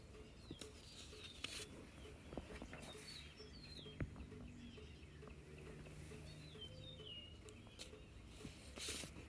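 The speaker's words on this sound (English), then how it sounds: "did you happen to hear all the birds throughout the video?" Faint bird chirps and short calls scattered through a quiet outdoor background, with a few soft clicks and rustles.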